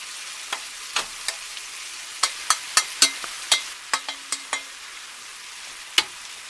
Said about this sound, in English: I'm going to add the veggies.